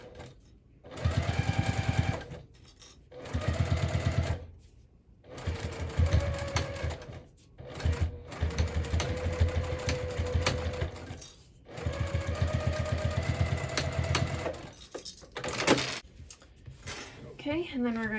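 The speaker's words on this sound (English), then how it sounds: "I am going to go ahead and back stitch a couple times over the straps, just for a little extra security on those" A sewing machine back stitches over handbag straps in repeated bursts of rapid mechanical whirring, each run a couple of seconds long and separated by short silent pauses, with brief spoken remarks here and there.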